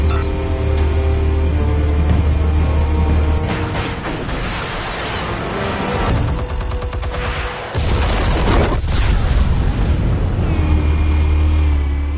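Explosions and heavy gunfire in a PS4 video game, a dense, continuous loud barrage of booms and shots with a brief lull in the middle before the blasts resume.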